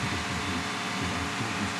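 A steady, low mechanical drone with a faint rhythmic pulse runs unbroken, a Lincoln Mark VIII engine idling close by with a fault.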